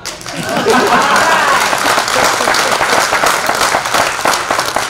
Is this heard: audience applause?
yes